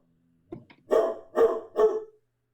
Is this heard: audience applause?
no